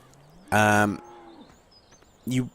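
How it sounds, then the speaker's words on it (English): Cattle in Farming Simulator 17 moo twice from a farm field, a long loud bellow followed after a pause by a shorter second moo, with faint ambient background between. "So we now have a lot more cows."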